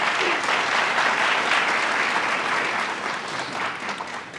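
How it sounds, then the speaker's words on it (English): A convocation audience at a university Founder's Day ceremony gives the choir a round of applause, steady broadband clapping from a large crowd that holds throughout and tapers slightly at the end. "Join me in giving them another round of applause."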